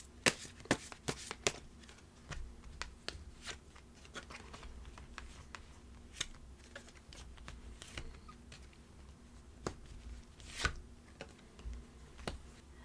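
Tarot cards being shuffled before a draw, heard as quiet, close, irregular papery riffles and taps scattered in bursts over a faint background, with no talk.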